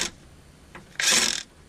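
A ratchet wrench works loose a castle nut on a fourth-generation V6 Camaro's steering, heard as a brief click, a short tick, then a louder half-second burst of ratcheting, close up with no talking.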